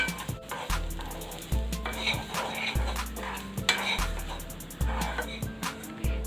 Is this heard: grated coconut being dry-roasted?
yes